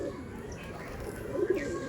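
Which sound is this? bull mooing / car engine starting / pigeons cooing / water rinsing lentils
pigeons cooing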